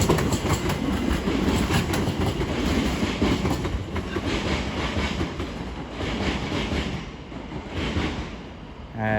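A London Overground Class 710 electric train departs London Euston on the West Coast Main Line, a steady rumble with rhythmic clickety-clack of wheels over rail joints, fairly close and continuous.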